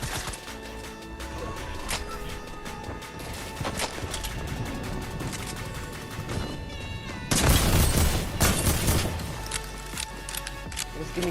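Dragon breath shotgun blasts in a first-person video game, sharp booming shots scattered through a busy game mix with music and effects, a louder burst of firing near the end.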